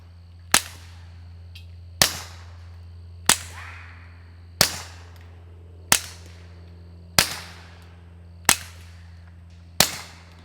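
A Taurus TX22 rimfire pistol firing CCI standard ammunition at a berm gives eight sharp, evenly spaced shots, each a crisp crack with a short ringing tail, over a steady low background hum.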